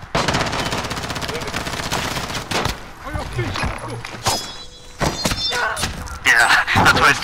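Gunfire in the video game Warzone, bursts of rapid automatic fire and sharp shots crackling loudly in rapid bursts with thumps and short gaps between, over game ambience.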